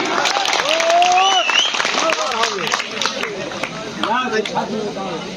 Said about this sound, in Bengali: এদের জন্য একটা জোরদার হয়ে যায় করতালি